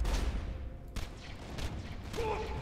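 Pistol gunfire in the Borderlands 2 video game, a few sharp shots about half a second apart over steady game background noise, with a faint voice near the end.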